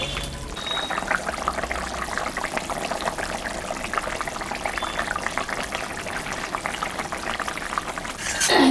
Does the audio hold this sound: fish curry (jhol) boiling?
yes